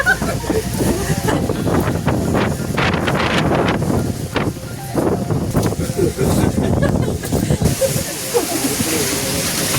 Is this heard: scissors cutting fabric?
no